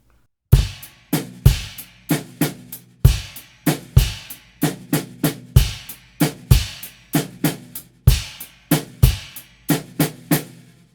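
Crisp drum kit pattern of sharp hi-hat and trashy stack cymbal hits in a steady repeating rhythm, slowed down, played alone and fairly close, from a drum part for a song.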